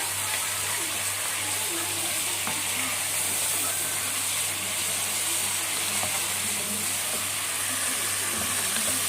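Spices, small chilies, lemon and bay leaves sautéing for Egyptian-style kabsa give a steady, dense sizzle that holds evenly and loudly throughout, with no break.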